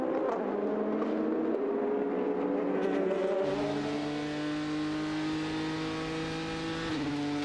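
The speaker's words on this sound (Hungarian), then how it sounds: "De Priol üldözi tovább a franciát a Porsche-ben." Endurance race cars including a Porsche racing on the Bahrain circuit during a 2017 WEC round, engines revving and shifting through gears over several seconds, loud and continuous with no talk.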